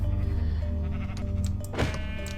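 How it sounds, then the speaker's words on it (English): Sheep in a video game bleat close and loud over a steady low tonal hum, with one sharp bleat rising near the end. "let me go grab this other sheep"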